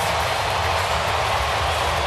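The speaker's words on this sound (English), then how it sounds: "Train number 21 has just left Union Station at 3-0 Astros." A train rumbles steadily along elevated tracks above the outfield at Minute Maid Park after a home run, a continuous loud rolling roar heard over crowd noise without distinct clacks.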